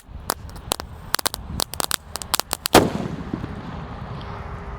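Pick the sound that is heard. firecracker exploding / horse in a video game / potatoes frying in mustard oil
firecracker exploding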